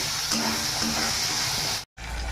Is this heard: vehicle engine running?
no